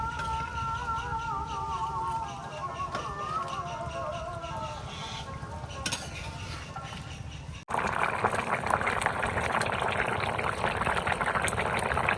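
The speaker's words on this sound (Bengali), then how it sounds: "জল ফুটে গেছে এবার মাছটা দিয়ে দিচ্ছি" A whole fish going into a pot of boiling water while cooking curry with garden-dug potatoes, bringing a sudden louder rush of bubbling and splashing after steady simmering, with chirping in the background.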